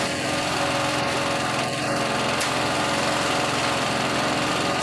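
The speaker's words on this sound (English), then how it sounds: "Scrape the concrete with a laser scraper." Laser screed machine leveling fresh concrete for a stamped floor, a steady unbroken engine drone with a high whine, loud and close throughout with no voices.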